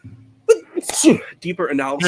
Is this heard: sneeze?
yes